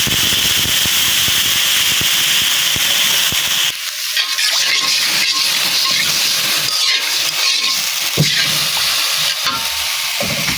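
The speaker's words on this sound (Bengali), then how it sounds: "আমি এখন অল্প পরিমাণে পানি দিয়ে দিই।" Water splashes into a pan of frying onions and garlic for a horn fish and tomato curry, and a steady sizzle erupts into a louder, crackling hiss of steam that keeps sputtering close by.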